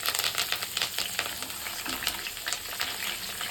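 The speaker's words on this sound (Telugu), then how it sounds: "కరివేపాకు వేస్తున్నాను" Curry leaves crackle and sizzle in hot oil for a tomato pickle, a dense, steady frying hiss packed with rapid sharp pops, close and loud throughout with no voices.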